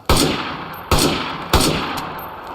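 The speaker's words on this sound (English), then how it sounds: "a very nice sounding FAL" Three loud FAL rifle shots in the DayZ video game, each a sharp close blast followed by a decaying echo, spaced roughly a second apart with no talk.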